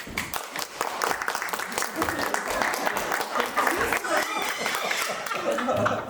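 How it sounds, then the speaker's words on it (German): Applause for a jury member at a pre-dress-rehearsal event, steady clapping from an audience with scattered voices and a chuckle mixed in throughout. "Applaus für Clementine"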